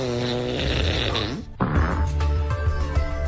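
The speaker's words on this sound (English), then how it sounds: "The whole morning show, he decided to have fart sound effects, and he got fired." Comedic fart sound effects dubbed into a Hungarian television weather report on a morning radio show, a string of buzzy, flapping bursts over the forecaster's voice, with a short break midway before more blurts continue under the talk.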